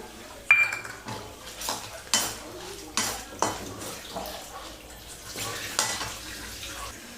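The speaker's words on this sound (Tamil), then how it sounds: "நான் வந்து இந்த உளுந்து மிளகாலாம் வறுத்துக்கு போகிறேன்" Urad dal and red chillies roasting in a pan, heard as repeated metal spoon scrapes and clanks against the pan every second or so over a soft sizzle, close and moderately quiet, with a little background voice.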